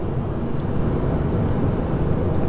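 BMW E46 M3 engine held against the rev limiter, a steady loud low droning roar that stays flat without bouncing, heard close from inside the car with no talking.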